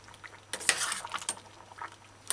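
A spoon scrapes and clinks against a pan of potato coconut stew with Irish potato, a few quick stirring strokes close up with light metallic taps and no talking.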